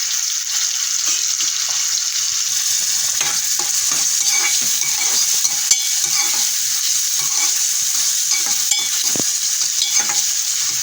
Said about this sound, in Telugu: ఉల్లిపాయ, పచ్చిమిర్చి వేస్తాం. కాసేపు మగ్గబెట్టాలి.